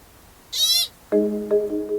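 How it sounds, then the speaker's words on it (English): A pika calls: a single sharp, very high-pitched squeak, then after a short pause a lower, nasal two-part call, both brief and fairly close. "If I go out to a place where they live and I hear ee, ee, I look for them."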